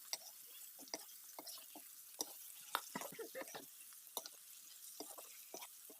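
Green chilies and garlic frying in a pan give a faint, quiet crackle of scattered pops and stirring clicks, close by, with no voices.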